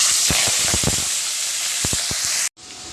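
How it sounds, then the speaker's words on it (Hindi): Cumin seeds, garlic cloves and fenugreek seeds sizzle loudly in hot oil for a tempering, a steady close frying hiss with scattered crackles and pops, cutting off briefly near the end. "सबसे पहले जीरा के फोरन देवत हन, लहसुन की कली डालत हन, मेथी डालत हन"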